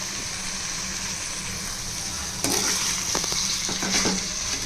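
Ingredients sautéed and stirred in a cooking pan, a soft background sizzle broken by scraping and clattering stir strokes in the second half, close and fairly loud.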